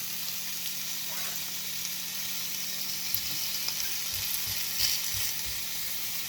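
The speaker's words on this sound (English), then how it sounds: "get that in the pan" Thick slices of homemade maple bacon sizzle steadily in a frying pan, a constant close hiss with faint pops and scrapes now and then.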